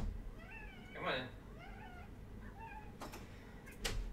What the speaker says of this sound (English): my cat really wants in here to start helping